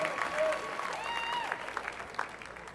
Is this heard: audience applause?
yes